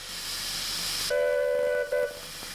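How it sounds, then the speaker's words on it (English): Steady loud hiss of escaping steam from a Rovos Rail steam locomotive during a steam pressure test, joined partway by a sustained tonal whistle-like squeal that cuts off briefly and returns. "steam pressure is tested"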